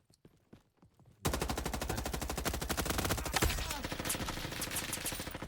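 Rapid automatic gunfire in the Roblox game Frontlines erupts after a second of near-quiet with faint clicks, then continues as loud, dense, unbroken bursts of shots to the end.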